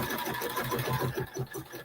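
An embroidery-style sewing machine stitches out a design with a fast, steady mechanical chatter and rhythmic whirring pulses, close and alone.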